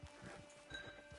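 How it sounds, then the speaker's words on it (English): Horse in the video game Red Dead Redemption 2, heard as soft repeated low hoof thuds in a steady plodding rhythm at moderate level over a constant background hum. "Get your horse."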